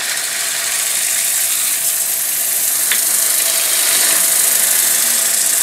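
Sanding disc held against a wooden bowl spinning on a lathe at slow speed, giving a steady, close, even hiss of abrasion with no pauses across the whole stretch.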